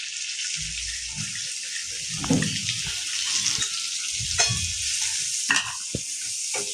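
Onions added to a pan with cumin and green chilies for Kolhapuri-style pav bhaji sizzle and fry, with a steady hiss and repeated stirring scrapes and clatters throughout, close and fairly loud.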